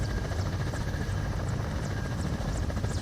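A Mi-17 helicopter's steady rotor thump and engine drone in Microsoft Flight Simulator fill the space, constant and fairly distant, with no voices.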